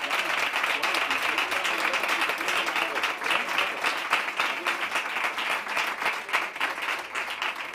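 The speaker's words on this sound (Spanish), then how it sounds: "Un fuerte aplauso para él." A crowd claps continuously through a flamenco jazz concert in a small club, a thick, even wash of applause that holds at a steady level from start to finish without any voices on top.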